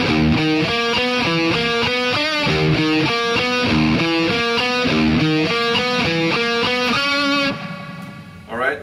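Two distorted electric guitars play a repeating figure, a steady looping pattern of picked notes, loud and close, before it cuts off and fades near the end.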